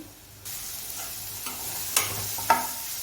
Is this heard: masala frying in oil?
yes